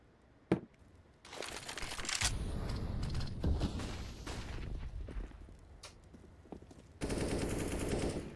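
Rifle gunfire spam in a Counter-Strike match on Vertigo, sustained bursts of rapid shots crackling through the map with a sharp crack early on, no voices.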